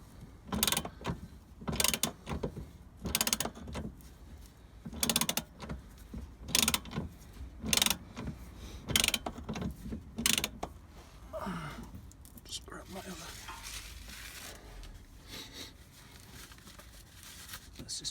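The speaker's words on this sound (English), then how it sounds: "Let's just try and wind this in." Ratcheting bursts repeat about every second or so as a bolt is wound into the rear shock absorber of a Mk4 Ford Mondeo. The bursts are close and fairly loud, with soft whispery noise between them and a quieter stretch near the end.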